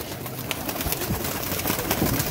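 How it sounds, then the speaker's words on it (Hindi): Large pigeons in a loft cooing together, a steady dense murmur of soft coos and flutters close by. "ये जी बोस जी के जोड़े बड़े कबूतर हैं टैडी"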